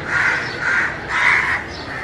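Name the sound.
crow cawing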